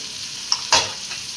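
Finely sliced onions sautéing in a pan with salt, a close sizzle cut by two quick scraping strokes of a spoon moving them around.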